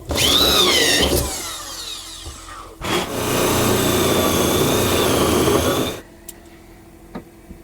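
A power drill drives a 125 millimeter hole saw through a panel to cut a hole for a bus heater duct. Two loud, whining bursts of cutting are separated by a short pause, and quiet clicks follow.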